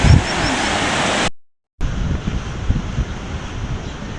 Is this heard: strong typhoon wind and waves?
yes